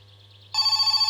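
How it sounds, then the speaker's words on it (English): Telephone in the video game My Summer Car starts ringing after a half-second of quiet hum, sounding a steady rapid electronic trill that pulses evenly and close, with no talk over it. "The phone!"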